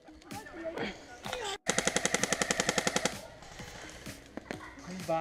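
Airsoft gunfire during an outdoor base attack game: scattered single shots and clicks, then a sharp, rapid burst of about a dozen rounds. Voices can be heard around the shooting.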